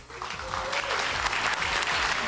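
A studio audience on a TV dance competition show breaks into loud, sustained applause for a contestant, a dense wall of clapping close up with no pauses.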